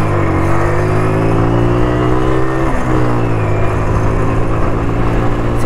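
A motorbike accelerates hard toward 60 km/h, its engine note loud and close, rising steadily in pitch through the gears with a brief shift dip midway, no voices over it.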